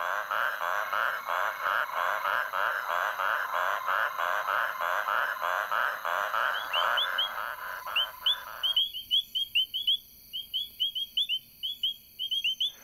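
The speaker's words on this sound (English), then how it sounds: "With reed frogs, it's all about who calls loudest gets the girl." A dense chorus of rapid, pulsing reed frog calls, loud and rhythmic, then drops away to sparse high chirps and clicks.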